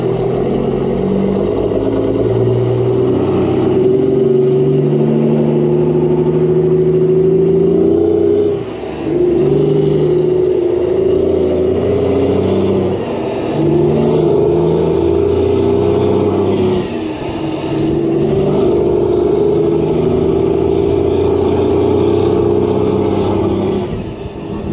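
A DL550 wheel loader's engine drones loudly and steadily as the machine drives off, with a low mechanical growl, shifting revs and brief dips in power.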